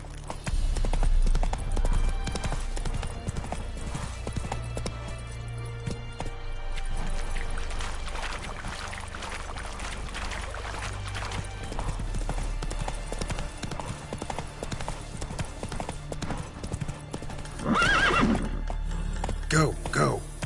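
Horse hooves clip-clop at a gallop in The Witcher video game, with neighs and whinnies breaking through, steady rhythmic hoofbeats under loud game action and shouting voices.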